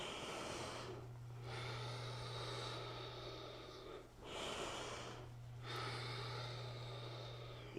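Slow yoga breathing during a gentle flow class: long, breathy inhales and exhales with brief quiet gaps between them, close and soft over a low steady hum.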